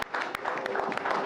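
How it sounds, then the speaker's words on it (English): Audience at an awards ceremony claps briefly, a faint, dense patter of applause with a few sharper individual claps standing out. "Huge round of applause for Janhvi Kapoor."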